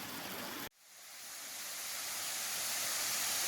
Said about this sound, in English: Listen to the water.